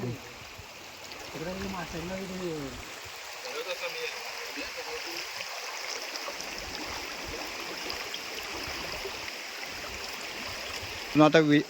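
Fast-flowing stream water rushes under a bridge, a steady broadband gush heard close by. A voice briefly sounds over it near the start, and the flow continues alone afterwards.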